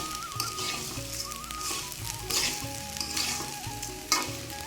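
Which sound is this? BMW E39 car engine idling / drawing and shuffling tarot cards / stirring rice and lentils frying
stirring rice and lentils frying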